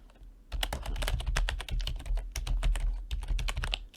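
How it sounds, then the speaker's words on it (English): Rapid, steady typing on a computer keyboard while entering a new file name in Windows 10, dense clattering keystrokes close up after a brief quiet start, continuing alone with no voices. "Now just type the new name that you want"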